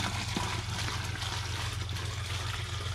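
Water poured from a bucket into the back tank of a toilet with no water hookup, a continuous splashing, gurgling stream heard up close for the whole stretch.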